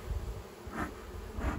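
Honeybees buzzing inside an opened hive during a May inspection, a low steady drone with two brief swells of brighter, agitated buzzing, close and fairly quiet with no voices.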